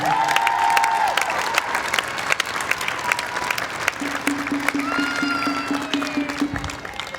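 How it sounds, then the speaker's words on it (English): A rally crowd at a Black Lives Matter event in Albuquerque breaks into sustained loud applause, with scattered cheers and whoops and a steady tone running underneath partway through. "give everybody else a round of applause one more time for me"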